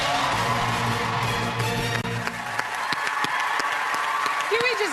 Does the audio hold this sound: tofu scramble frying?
no